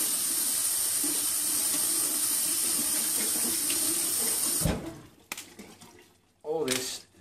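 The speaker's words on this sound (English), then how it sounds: "one whole celery, just give that a wash" A kitchen tap runs hard onto celery and spinach being washed, a loud continuous splashing hiss that cuts off abruptly, followed by a few wet handling sounds and a short second burst of water.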